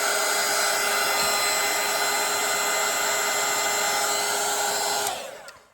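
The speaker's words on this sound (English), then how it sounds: "I'm just gonna dry this with my dryer real quick" A hair dryer blows on a watercolor painting with a steady, close, high whine and rushing air, then shuts off and spins down in the last second.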